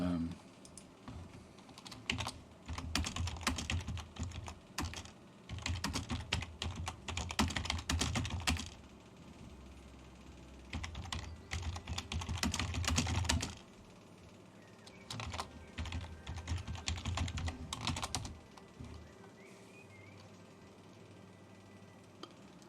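Rapid bursts of typing on a computer keyboard, close and clicky, in several long runs separated by short pauses, with faint background sound between them.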